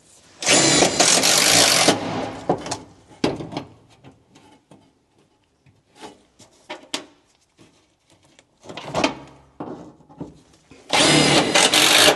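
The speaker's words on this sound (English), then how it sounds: "I'm just going to screw this thing into place and maybe pound it around as we go." A power screwdriver driving screws through a sheet-metal transmission tunnel cover on a 1958 Plymouth, with loud whirring bursts at the start and end and scattered taps and handling noises in between.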